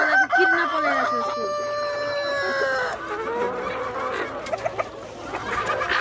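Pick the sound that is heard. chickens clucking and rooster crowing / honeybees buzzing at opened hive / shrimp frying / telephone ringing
chickens clucking and rooster crowing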